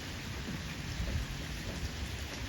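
Heavy rain pours outdoors at a Sri Lankan home, a thick unbroken wash of drops with a low rumbling undertone, constant and close, with no one speaking.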